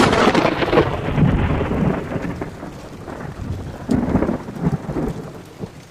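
Heavy thunderstorm with a dense, steady roar of pouring rain and deep rolling thunder rumbling loudly, then easing slightly before swelling again, with no voices.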